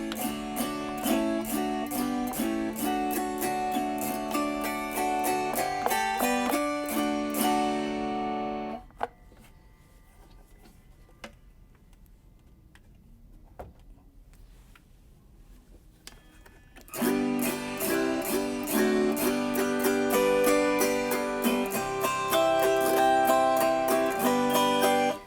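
Several refurbished vintage Oscar Schmidt autoharps strummed close to the microphone: bright, ringing chords rich in overtones fill the opening stretch, fade into a quiet gap with faint plucks, then full strumming returns loudly.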